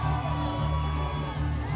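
A lucha libre crowd at a Pro Wrestling Revolution event keeps up dense, steady cheering and whooping, with no quiet gaps.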